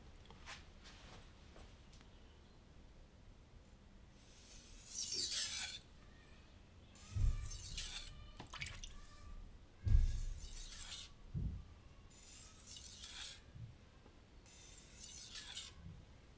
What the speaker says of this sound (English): There's absolutely nothing wrong with trying to apply a constant pressure to the whetstone.